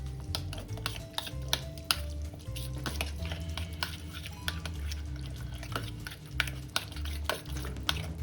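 A spoon mixes tandoori chicken masala with salt in a bowl, giving close, quiet wet squelches and light rhythmic clicks against the bowl over a low background hum.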